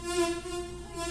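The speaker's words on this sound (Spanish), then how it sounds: "porque de hecho estos mosquitos son especiales" Mosquitoes buzz as a steady, close, high-pitched whine that holds throughout without voices.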